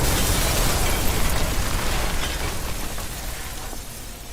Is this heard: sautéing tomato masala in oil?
no